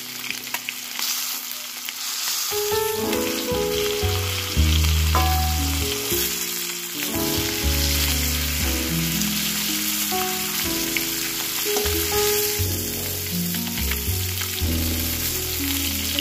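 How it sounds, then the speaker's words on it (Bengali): Steady, dense sizzling of lata fish frying in hot oil runs throughout, with a melodic background music track playing over it. "এদিকে হচ্ছে লাটা মাছ ভাজছি"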